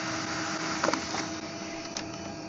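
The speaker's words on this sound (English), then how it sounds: "After the memory is cleared, the printer will print a report." Samsung Xpress M2070w laser printer printing a report after a memory reset, giving a fairly faint, steady mechanical whir with a few soft clicks and paper-feed ticks.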